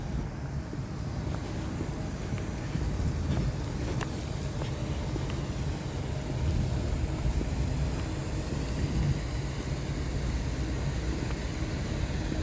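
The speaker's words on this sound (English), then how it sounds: "Yeah, it's a train." A steady low train engine drone hums in the distance, continuous and unchanging, with outdoor ambience around it on a cold night in Stockbridge, Georgia.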